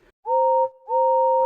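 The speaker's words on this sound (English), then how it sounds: "The guard blew his whistle" A railway guard's whistle gives two clear, steady two-tone blasts with a short gap between them, loud and alone.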